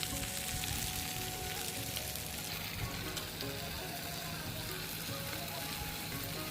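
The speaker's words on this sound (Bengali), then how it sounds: "আমি একটা করে মাছ আমি প্যানের মধ্যে, প্যানটা যখন গরম হয়ে গেছে আমি বসিয়ে দিয়েছি" Lote fish pieces fry in a hot pan, giving a steady, rain-like crackle and sizzle that stays even and fairly faint throughout.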